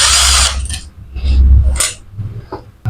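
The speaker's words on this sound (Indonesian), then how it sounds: "Kita punya mesin bor DC, kita untuk melepas bautnya menggunakan bor ya teman-teman supaya cepat." A DC power drill backs bolts out of a Cosmos electric fan: loud, close whirring bursts that start, stop and start again, with faint clinks of metal in between and no talking.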